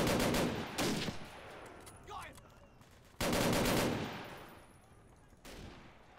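Covering fire in the WWII strategy game Men of War, with several loud bursts of rapid gunshots separated by quieter gaps, a faint sound between them.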